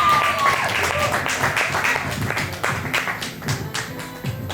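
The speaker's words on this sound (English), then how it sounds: "a round of applause for Emmanuel." An audience at a Wednesday open mic poetry night applauds a poet, giving a dense, continuous wash of many hands clapping at even loudness for several seconds.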